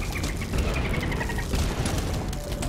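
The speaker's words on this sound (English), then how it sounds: "I wish the explosions would do damage to the zombies around them" Explosions in the Plants vs Zombies video game in endless mode pile up as dense, muffled booms and crackling bursts, with faint game tones running over the top.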